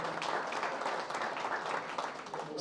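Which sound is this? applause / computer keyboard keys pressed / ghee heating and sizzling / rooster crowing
applause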